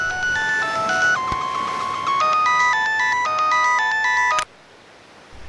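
A mobile phone ringtone plays a clear, steady melodic tone pattern, loud and close, for about four seconds before it cuts off abruptly into quiet room noise.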